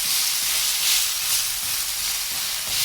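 Onion and tomato sauté in oil in a pan, giving a steady, close sizzling hiss with soft stirring scrapes that swell and ease slightly throughout.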